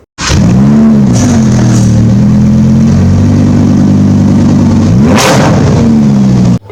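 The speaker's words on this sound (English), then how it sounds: "And by that I made sure I had the revving sound." A Lamborghini Huracán LP 610-4 with a 5.2 V10 blips its throttle, then holds a loud, high, even rev close by, dips briefly and surges again before cutting off.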